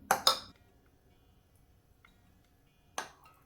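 A tablespoon clinks twice in quick succession against a dish while cheese is added for a Danish pastry, then a single sharper clink follows after a quiet pause.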